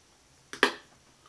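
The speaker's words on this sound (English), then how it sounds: "I don't want it to be able to snap like it just did." A piece of paleo coconut jerky snaps in two, giving a sharp near crack with a smaller crackle just before it, then quiet.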